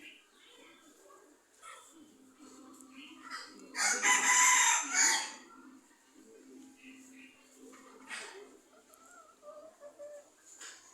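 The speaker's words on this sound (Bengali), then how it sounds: "এখানে আমার দুইটা মুরগি ডিম পাড়তে বসছে" Native hens cluck softly nearby, with a louder burst of squawking in the middle; a person talks intermittently.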